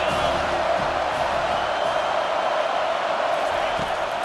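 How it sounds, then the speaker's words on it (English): A roaring stadium crowd at a college football video game during a TCU home game on third down, a loud, steady wash of cheering with a commentator talking over it. "Third down, and this crowd is tearing the lid off this place."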